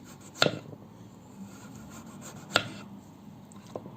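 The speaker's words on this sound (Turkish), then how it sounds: "Bu şekilde hepsini halka halka doğrayıp kızartmaya geçeceğim arkadaşlar." A kitchen knife slices potatoes into rings on a cutting board, giving a few sharp, separate cuts spaced seconds apart over a quiet room background.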